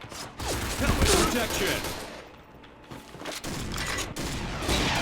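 Rapid gunfire bursts and explosive booms in the shooter game Point Blank, loud and close in several volleys with brief lulls, while excited players shout over the shooting.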